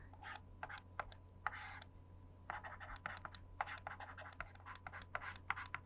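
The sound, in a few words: writing an answer by hand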